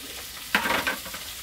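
Garlic hits a hot pan in an African village kitchen with a sharp sizzle that quickly settles into brief crackling and stirring, heard close and alone.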